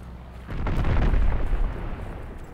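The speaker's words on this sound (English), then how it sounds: "Friendly bombing run inbound." A friendly bombing run in Call of Duty Vanguard: a heavy rumbling blast swells after half a second, loud and deep, then rolls off into a fading boom with no voices over it.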